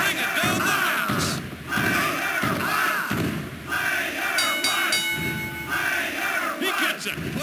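An arena crowd in the PlayStation wrestling game WWF Warzone roars and chants loudly throughout, with repeated heavy thuds from the ring cutting through in a steady rhythm and a few bright chimes near the end.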